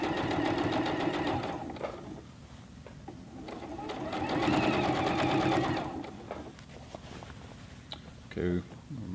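A Juki G210 sewing machine hems the leg of denim jeans, its rapid rhythmic stitching running loud and close in long bursts that slow and stop, with a person talking over parts of it.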